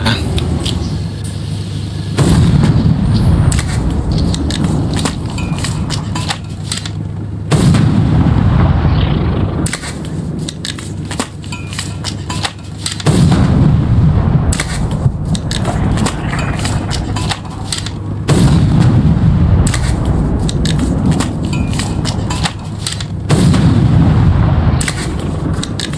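Artillery shells fired in the Foxhole war video game, a series of heavy booming blasts every few seconds, each followed by a rumbling tail, loud and close with no talk.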